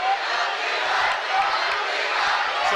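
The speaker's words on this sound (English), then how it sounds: "the Northview crowd has come alive" A basketball student section crowd roars and cheers continuously at a high-school game, a broad, loud wash of voices with occasional shouts rising out of it throughout.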